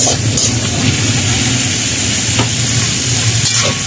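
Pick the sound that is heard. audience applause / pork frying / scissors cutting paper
pork frying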